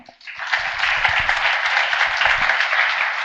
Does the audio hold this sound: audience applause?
yes